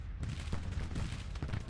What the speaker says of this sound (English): Firing at the artillery.